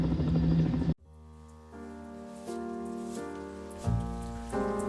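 Video-game helicopters on a 1986-era Mac with 2.5 MB of RAM, a steady buzzing drone with a tonal hum that shifts pitch in a few steps, after a brief burst of louder sound at the start.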